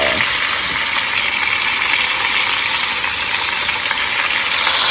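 Rump roast with onions cooking down in a Dutch oven, a loud, dense, continuous sizzle and bubbling hiss held close and steady without pause.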